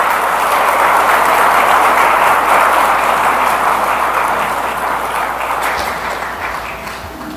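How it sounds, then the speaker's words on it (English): Steady, dense applause from a church congregation fills the space, holding strong before gradually tapering off toward the end. "A round of applause for King Jesus."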